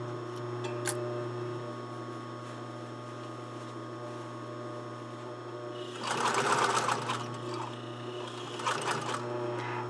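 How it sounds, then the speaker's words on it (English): A sewing machine stitches a garment sleeve, humming steadily with a low motor drone, then runs louder and faster for a short burst of backstitching with rattling, ticking mechanism noise; no voice is heard. "Don't forget to backstitch."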